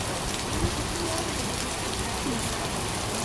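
Heavy rain pours down steadily in a Bangladeshi market street, a dense, loud, unbroken hiss of drops with no pauses.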